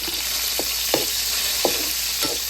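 Meat frying in oyster sauce gives a steady close sizzle, hissing evenly throughout, broken by a few soft scraping stirs at irregular intervals, with no one speaking.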